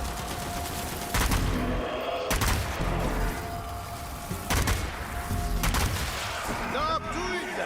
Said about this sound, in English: Gun them down and push forward.